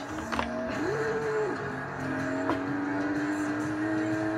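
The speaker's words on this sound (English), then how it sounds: "Now, this is a 2005 model, 2005 TVR Sagaris." A 2005 TVR Sagaris engine roars in a racing video game played with a steering wheel, a steady high revving drone with a quick pitch dip and rise as gears shift.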